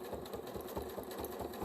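A sewing machine runs steadily as it stitches cream thread on white fabric along a quilting ruler, its needle beating in a fast, even rhythm, close and moderately loud with no talk.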